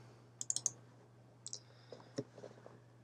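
Computer mouse clicks while opening Photoshop for photo editing: a quick cluster of sharp, close clicks, then a couple of softer isolated clicks over a faint steady hum, with no speech.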